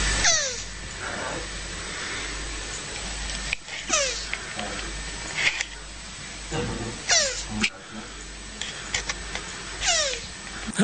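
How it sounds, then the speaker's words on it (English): A mating tortoise, mounting a shoe, lets out repeated short squeaky descending cries at irregular intervals, fairly close, against constant background noise. "the sound of a tortoise making sweet, sweet love to a shoe"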